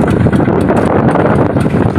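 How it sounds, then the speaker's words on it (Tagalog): Strong wind roars steadily against the microphone, a dense continuous rumble with gusting buffets and no clear voices. "Lakas ng hangin."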